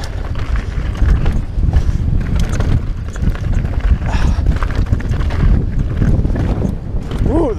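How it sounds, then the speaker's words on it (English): Wind rushing past a rider descending the rocky Bone Shaker mountain bike trail in the Cowboy Trails area of Las Vegas, Nevada, a loud continuous buffeting roar on the microphone with clattering bumps throughout and a voice heard over it. "the wind"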